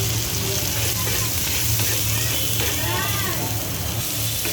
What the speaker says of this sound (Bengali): লবণ দিয়ে আগে ভালো করে ভেজে নিতে হবে